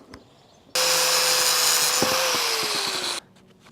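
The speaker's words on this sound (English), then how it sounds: "these gears are so kind of welded on that you have to almost cut them free" A power tool cuts seized, rusted gears free on a Land Rover, starting abruptly with a loud high whine and grinding hiss that sags slightly in pitch under load, then stops after about two and a half seconds.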